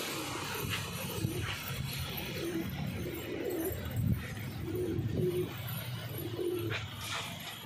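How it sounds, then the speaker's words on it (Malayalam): Pigeons coo in repeated low phrases near a loft as the birds come out after release, the soft rhythmic calls rising every second or so over a steady outdoor background. "നമ്മുടെ പ്രാവളൊക്കെ പുറത്തിറങ്ങി തുടങ്ങിയിട്ടുണ്ട്."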